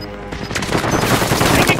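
Call of Duty gunfire: a loud, close burst of rapid automatic shots, dense and continuous for the whole moment.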